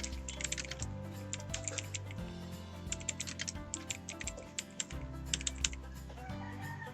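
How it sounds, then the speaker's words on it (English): Steady typing on a computer keyboard, close and fairly quiet, a run of light clicky keystrokes in irregular bursts over a low background hum, with no talking. "type the instruction you want to give for the examinees"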